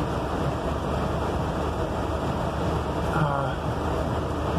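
Storm wind and rain rush steadily against a vehicle windshield during a thunderstorm in San Antonio, a constant loud roar with no breaks and a faint brief tone near the end.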